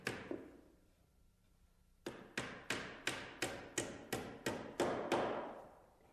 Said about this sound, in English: tack it in place with a small nail